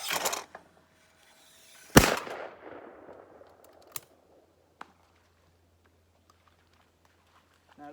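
A Yildiz HPS sporting shotgun fires once at close range with a sharp, loud blast that decays with echo, preceded by a faint click, and a small tap follows a couple of seconds later.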